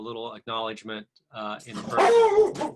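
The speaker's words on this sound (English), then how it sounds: "excuse my dog" A dog barks a few times near the end, loud and close, overlapping a person speaking indoors.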